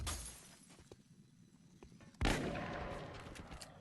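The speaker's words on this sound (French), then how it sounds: "on va tirer à travers la vitre pour blesser celui-là" A shotgun fired through a glass window in the video game XCOM Enemy Within, a single loud blast with shattering glass and a ringing tail, following a stretch of quieter game ambience and faint clicks.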